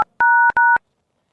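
Telephone keypad tones as a phone number is dialed: a clipped tone at the start, then two steady, loud dual-pitch beeps of about a third of a second each, separated by a short gap, followed by silence.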